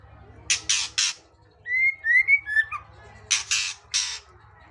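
Magpie robin (murai) giving a run of short, clear whistled call notes, close and fairly loud, between bursts of louder harsh rustling or flapping noise.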